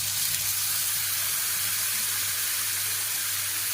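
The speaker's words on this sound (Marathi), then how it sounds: "हे सर्व छान परतून घेते" Chili powder, garam masala, black masala, ground peanuts, grated coconut and curd sautéing for stuffed brinjal give a continuous, fairly loud, even hiss with no breaks.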